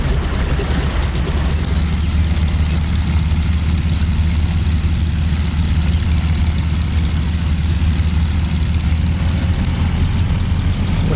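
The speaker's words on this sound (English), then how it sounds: "The Wasp Junior radial engine starts by the door." A Wasp Junior radial engine running on a de Havilland Twin Otter in a flight simulator, a loud, steady, low rumbling drone that holds evenly throughout with no talk.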